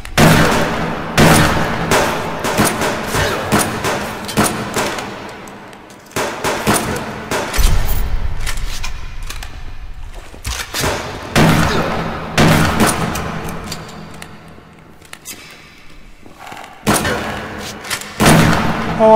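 Repeated bursts of gunfire from attacking hunters in the survival game Subsistence, loud sharp volleys recurring throughout with brief quieter gaps, no talk.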